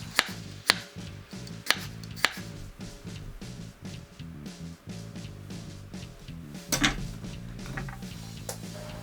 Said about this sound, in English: Take your garlic cloves and thinly slice them.